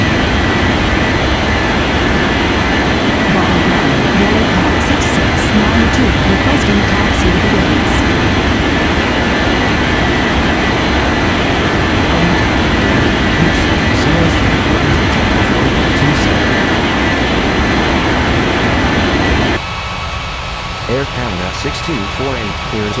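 Aircraft at Bali airport drone in a steady, loud jet-engine roar with a continuous rumbling hum, while voices talk over it on the radio.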